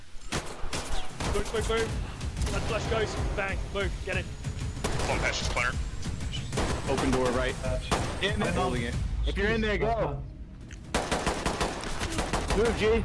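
Rapid bursts of gunfire from the tactical shooter game Ready or Not crack repeatedly alongside game audio, with someone talking over the shots throughout.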